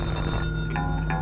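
A telephone rings in a Telugu film scene, sharp repeated electronic ring bursts over a steady background tone, heard alone without talk.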